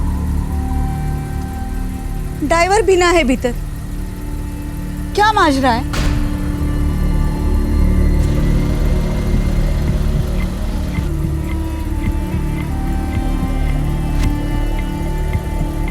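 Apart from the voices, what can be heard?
parked car engine running idle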